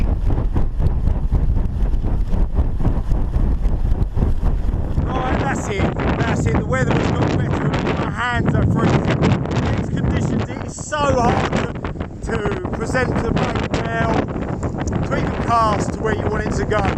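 Strong, steady wind buffets the microphone on a cold, snowy Kent coast at the Swale near Sittingbourne during sea fishing, a constant low roar with gusts, while someone talks over it for much of the time.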